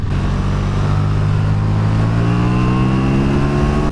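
A KTM Super Duke R motorcycle engine revs steadily and climbs in pitch, loud and continuous throughout, with no voices.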